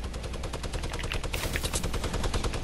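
Rapid bursts of gunfire from a burst-fire weapon in Fortnite Battle Royale, loud and close, with sharp rhythmic shots packed tightly together and no pauses.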